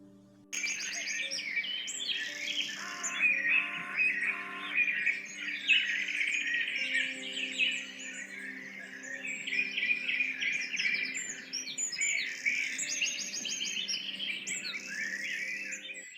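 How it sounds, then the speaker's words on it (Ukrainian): Many small birds chirp and tweet in busy, overlapping bursts, fairly close and lively, with a faint low hum beneath. "Прислухайтесь як весело шебечуть пташки."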